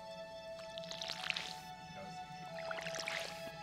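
Plants being watered with a watering can in the farming game Stardew Valley, two bursts of soft splashing, dripping water about two seconds apart over a steady quiet background hum.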